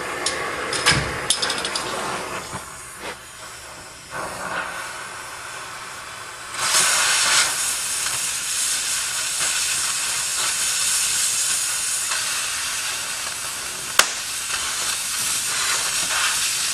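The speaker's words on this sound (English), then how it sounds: "Now I gotta get the torch and chop that off." A cutting torch slicing through metal on a collapsed Ford truck cab, with a steady loud hissing roar throughout, a few sharp clanks and knocks early on, and one sharp crack near the end.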